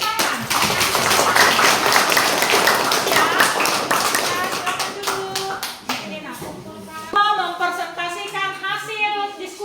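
Classroom clapping after a student group presentation, a burst of rhythmic hand claps that fades after several seconds, followed by people talking.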